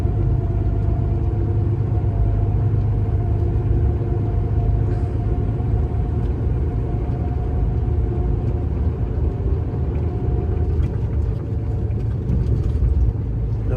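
A vehicle drives along a road at 66 km/h, a steady low engine rumble and road noise continuing evenly throughout, close and loud with no talk.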